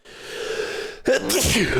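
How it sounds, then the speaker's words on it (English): A single close, loud sneeze bursts out after a quiet, steady indoor background and trails into a breathy rush. "I feel a sneeze"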